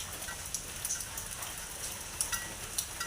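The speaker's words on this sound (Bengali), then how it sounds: "যেভাবে বৃষ্টি শুরু হয়েছে সব দোকান মাটি হয়ে যাচ্ছে" Steady rain falls on surfaces during an unseasonal autumn downpour, a faint, even hiss broken by occasional sharper drops.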